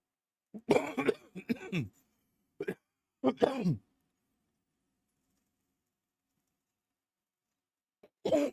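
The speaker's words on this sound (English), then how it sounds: "So I'm coughing and I'm trying not to" Several harsh coughs in quick bursts, close to the microphone, followed by a long silence and one more short cough at the end.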